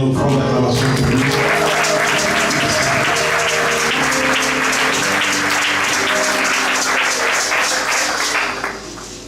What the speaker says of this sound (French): J'aimerais qu'on puisse donner une autre forme d'acclamation pour lui.